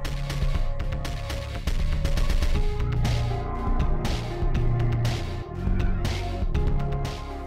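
Four rounds of 7.62x51 M80 Ball fired from a Kel-Tec RFP rifle, loud sharp reports in a dense, echoing burst close to the mic, with no talking.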